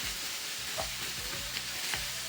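Green onions saute in a pan with a low, soft sizzle, and a few light scrapes come from stirring over a quiet, steady hiss.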